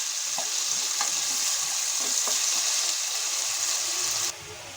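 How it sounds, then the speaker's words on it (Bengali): Potatoes seasoned with salt and turmeric fry steadily in hot oil, giving a constant close sizzle with a few faint clinks. The sizzle drops slightly near the end. "এখন আমি আলুটা ভেজে নেব।"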